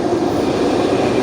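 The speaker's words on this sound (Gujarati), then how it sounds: "સ્કાય ટ્રેન જાય છે" SkyTrain passing by in Canada, a brief steady rumbling roar from the elevated track, fairly loud and continuous with no voices.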